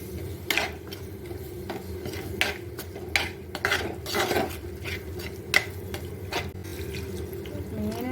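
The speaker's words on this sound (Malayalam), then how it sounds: "പാകത്തിന് വേകാനുള്ള വെള്ളം മതി, കുറച്ചുകൂടി ഒഴിക്കാം." Water pours steadily into a cooking pot for a northern Kerala-style sardine fish curry, with faint clinks of the pot and utensils and no talking.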